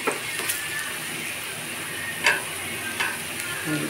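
Asafoetida sizzling in hot oil while a tempering is made for bottle gourd dal, a steady crackling fry with a few sharp clicks of a spoon against the pan, no talking.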